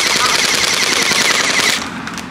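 A gel blaster splat gun fires a continuous rapid burst of shots up close and loud, a dense rattling stream that fades out near the end.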